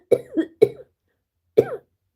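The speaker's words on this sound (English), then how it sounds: "I have coughing fits quite a bit sometimes" A person coughs in a short fit, two sharp hacks close together followed by a third after a pause, loud and close with silence between.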